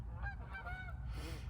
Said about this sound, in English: Is that a goose?